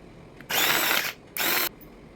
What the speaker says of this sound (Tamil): இது ரொம்பவே மினி சாப்பர்ன்றதுனால கொஞ்சம் கொஞ்சமாக தான் போட முடியும்.